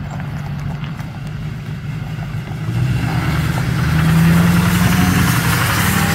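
A Ford truck engine idles nearby, a steady low rumble that grows slightly louder and fuller partway through, running alone without any talking.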